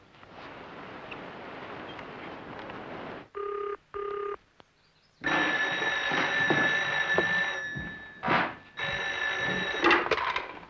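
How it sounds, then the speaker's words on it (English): A telephone rings in a 1989 film scene, giving two short, clear electronic ring bursts against a windy, rumbling background, followed by louder wind and engine-like noise with a few faint bell-like tones. "Another phone call."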